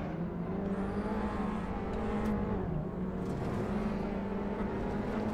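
Clio Cup race car engine droning close by in the Assetto Corsa racing game, a steady buzzing hum that holds at high revs, with another car's engine blending in, and no talking.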